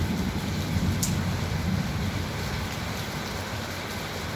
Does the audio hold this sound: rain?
yes